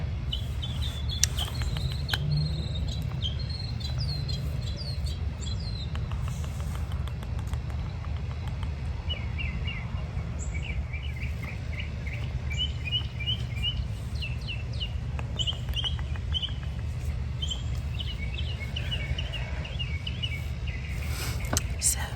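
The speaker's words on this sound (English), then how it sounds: "Also, I hope you guys find these birds relaxing." Birds chirp and sing outdoors in repeated short bursts of high calls over a steady low background hum, moderately distant and fairly quiet throughout.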